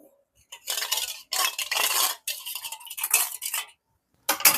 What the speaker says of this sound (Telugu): కొంచెం గిన్నె కడుక్కుందామండి.